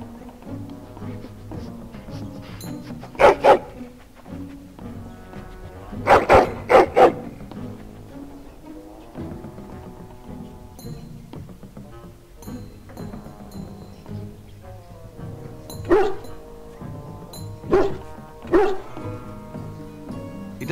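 Dog barks in the video game Dragon Age: Origins, a few bursts of barking and yips heard over steady in-game music and ambience.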